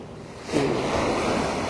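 Rough sea waves break and wash along the shore at Ban Chang, Rayong after rain, a loud broad roar that swells about halfway through, mixed with wind buffeting the microphone, no speech.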